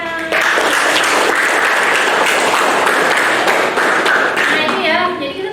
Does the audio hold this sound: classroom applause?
yes